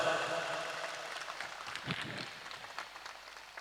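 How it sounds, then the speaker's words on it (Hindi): An audience claps in honour of holy saints at a religious gathering, producing a faint, scattered patter of applause that tapers into a distant, uneven clatter. "ऐसे दिव्य संत महापुरुषों के सम्मान में जोरदार तालियां बजाए साहब।"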